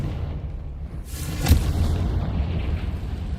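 A Confringo fire spell from Hogwarts Legacy bursts in a single sharp, booming explosion at mid-clip, then leaves a low rumble trailing under steady game ambience.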